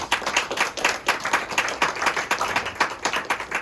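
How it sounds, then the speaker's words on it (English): Applause at a Kiwanis club meeting: a small group claps in a quick, pulsing rhythm, close and fairly loud, lasting a few seconds with no speech. "this deserves a round of applause"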